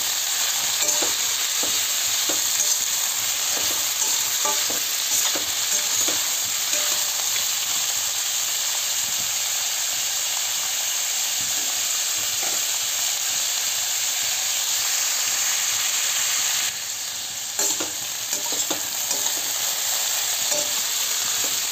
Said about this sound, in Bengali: কাঁকরোল আলু পেঁয়াজ ভাজা সব সময় না একটু নাড়তে হয়, নয়তো এই পেঁয়াজগুলো নিচে লেগে যায়।